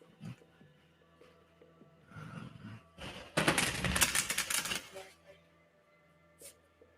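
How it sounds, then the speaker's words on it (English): Tarot cards are shuffled in a brief, crisp riffling burst lasting about two seconds, close and fairly loud against a quiet room, with softer card handling before and after. "More shuffling."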